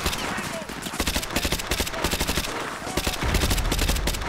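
UMP submachine gun in Call of Duty Modern Warfare 2 Remastered, rattling off rapid, evenly spaced bursts of sharp shots with brief pauses between strings, loud and close over a busy game mix.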